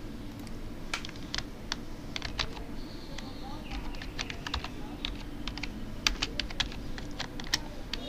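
Rapid bursts of typing on a computer keyboard while lettering a YouTube channel banner in Illustrator, with close, crisp key clicks in irregular runs over a steady low background hum.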